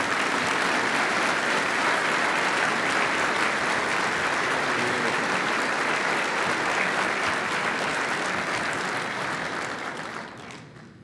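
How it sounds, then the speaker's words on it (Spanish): Sustained, dense applause from a large audience welcoming former Chilean president Ricardo Lagos Escobar at the Santiago Chamber of Commerce 95th anniversary event, steady and loud for about nine seconds before fading out. "Lo recibimos con este aplauso."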